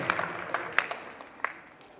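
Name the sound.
crowd applauding at an auction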